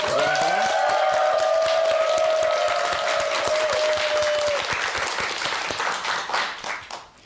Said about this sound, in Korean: 자, 박수로 강의를 청합니다.